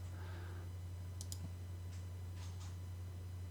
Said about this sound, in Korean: 클릭, 클릭, 클릭해서요